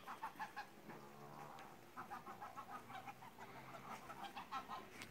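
Geese outdoors on a rural farm, repeated honking calls in short bursts, fairly faint and slightly distant, with quiet ambient background between the calls.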